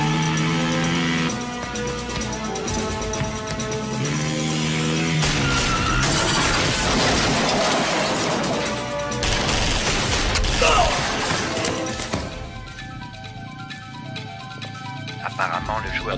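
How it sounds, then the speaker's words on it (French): Gunfire in a French action film, shots and crashes blending with a loud dramatic music score and effects throughout, dense and continuous. "On dirait une fusillade."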